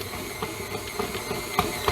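Stand mixer kneading pizza dough that has pulled away into a ball, a steady mechanical whir with rhythmic thumps as the machine bucks, close and moderately loud with no talk.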